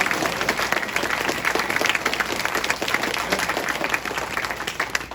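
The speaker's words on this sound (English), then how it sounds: "let's give a big round of applause to all of our candidates" Sustained applause from a crowd at a candidates' forum, a dense even patter of many hands clapping that holds steady without letting up.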